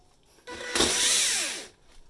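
A 14.4-volt cordless drill in clutch mode bores a hole, a single loud whirring burst of about a second that rises sharply, holds, and winds down, with no talking.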